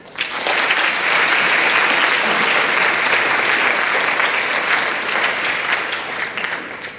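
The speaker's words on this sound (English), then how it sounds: "Let's give a round of applause." Steady, loud applause from a conference panel session audience, sustained throughout with dense overlapping claps and no pauses.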